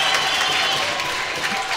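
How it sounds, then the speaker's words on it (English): A college wrestling crowd cheers and applauds during a match between UNCP and Limestone. A dense wash of clapping and voices runs through the short clip at a steady, fairly loud level. "The crowd is cheering, trying to stay behind Sammy, getting him fired up."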